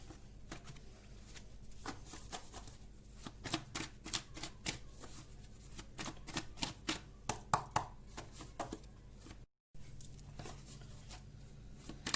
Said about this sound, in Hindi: अच्छे से शफल कर लेते हैं, फिर देखते हैं